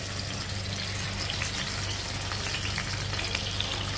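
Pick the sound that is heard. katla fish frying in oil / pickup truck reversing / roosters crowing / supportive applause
katla fish frying in oil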